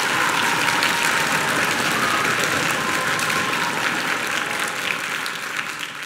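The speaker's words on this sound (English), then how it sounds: "Can we give him another round of applause?" Sustained applause from an audience at a school orchestra winter concert, many hands clapping evenly and steadily before easing off slightly toward the end.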